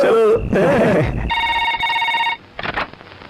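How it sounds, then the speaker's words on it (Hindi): A telephone rings with a steady electronic multi-tone trill in a Hindi-dubbed South Indian action film scene, starting after people talk and continuing for about a second before a short pause and more speech. "सूर्या के घर पर फोन किया"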